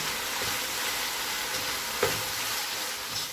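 Keema mixed with biryani masala and lemon juice, stirred in a pan: a steady soft sizzling hiss with faint scraping of the spoon and one brief clink partway through.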